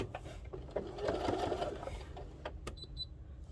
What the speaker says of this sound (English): now we're going to start to sew